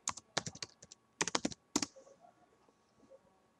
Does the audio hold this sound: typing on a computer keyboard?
yes